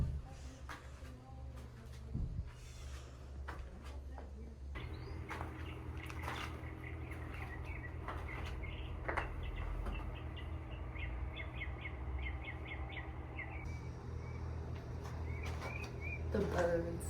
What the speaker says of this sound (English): I really hope y'all can hear these birds. They're so pretty sounding.